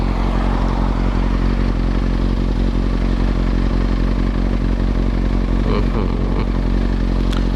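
A Kawasaki ZX6R 636 fitted with a Yoshimura exhaust runs close by with a loud, steady engine drone and a strong low rumble, with some clattering toward the end.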